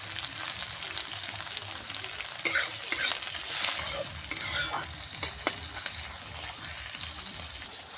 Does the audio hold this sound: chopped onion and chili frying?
yes